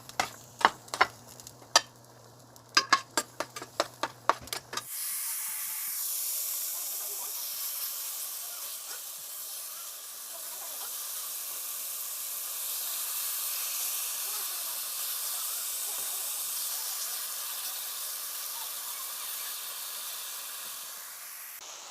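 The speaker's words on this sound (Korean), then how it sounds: "기름 살짝만 넣을게요. 마늘 볶을 거거든요." Garlic hitting hot oil over high heat in a stir-fry, a loud sustained sizzling hiss that starts abruptly after a few seconds of clattering and continues steadily to the end.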